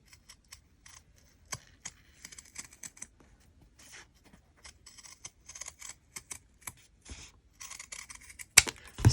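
Scissors cut freehand through folded fabric into a heart shape, a close, quiet series of crisp snips and rustles, followed by a few louder handling sounds at the end.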